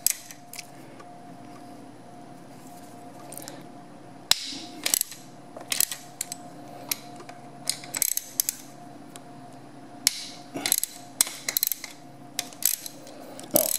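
Dirt bike engine bolts being loosened a little at a time in a crosswise pattern, giving scattered sharp metallic ratchet clicks and tool taps over a steady low background hum in a workshop, with no talking.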